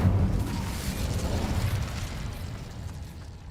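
A fire spell cast in Hogwarts Legacy gives a loud, sustained roaring whoosh with a rumbling low burst at the start that slowly fades over a few seconds.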